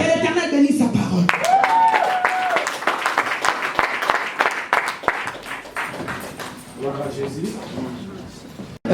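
A church congregation claps and cheers for Jesus Christ in a loud burst of applause that gradually thins out, with voices mixed in among the crowd.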